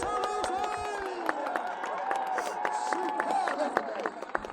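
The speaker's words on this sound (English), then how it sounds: "Take your applause, take your never-ending applause, Sir Rosie" Crowd at a medieval fair tournament applauds and cheers a knight, a steady wash of clapping with scattered shouts, while a loud announcer talks over it throughout.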